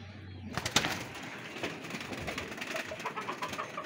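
Pigeons at feeding time, soft low cooing and bird calls close by over faint rustling and pecking, continuous throughout with no talking.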